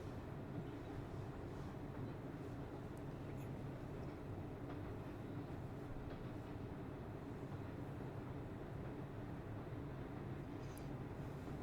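A train moving in Paper Mario: The Thousand-Year Door, heard as a faint, steady rolling rumble that continues evenly throughout.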